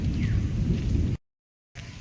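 Thunder rumbles low and heavy with rain falling steadily during hot weather, a continuous dense roar that cuts out abruptly into silence for about half a second before resuming.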